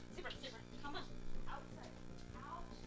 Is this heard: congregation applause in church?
no